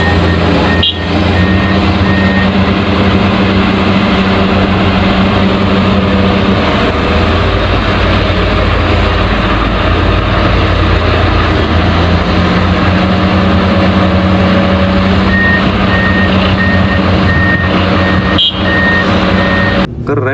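A toy backhoe excavator truck sounds continuous, loud reversing beeps over a steady engine-like drone that runs throughout, with a few brief breaks near the start and end.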